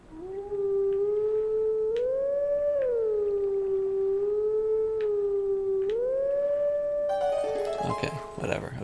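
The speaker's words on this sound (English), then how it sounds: "I think that this is an original howl." A wolf howls in The Legend of Zelda: Twilight Princess HD, a long sustained melodic howl rising and falling in pitch over several seconds, ending in a burst of game sound effects.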